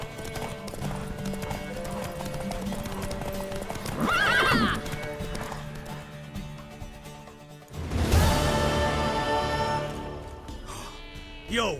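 Horse hooves galloping during a horse race in The Witcher 3, a steady clip-clop under game music and ambience, with a whinny and swells of louder action partway through.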